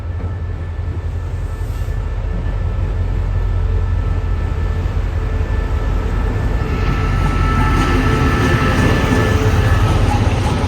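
A GEK diesel locomotive of the State Railway of Thailand runs past the Bang Sue depot, giving a steady, loud rumble of engine and rolling wheels that holds for the whole stretch and builds slightly toward the end.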